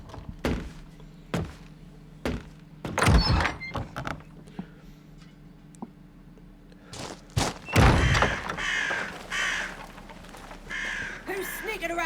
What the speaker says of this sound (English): Nobody. Just the birds.